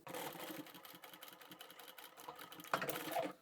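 A sewing machine stitches a seam on a double zippered boxed pouch, its needle chattering in a fast steady rhythm at close range, with a brief shift and squeak of fabric handling near the end.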